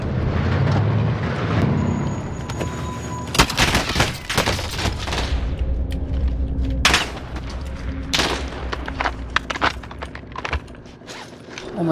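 A JAK-12 shotgun in the video game Call of Duty fires heavy booming blasts in close bursts over a loud, dense battle and vehicle rumble, with more rapid shots and clatter toward the end.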